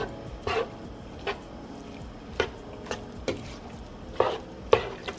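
Taco filling being stirred in a pan on the stove, with a handful of short scraping and clinking spoon strokes over a quiet, faint sizzle; no talking.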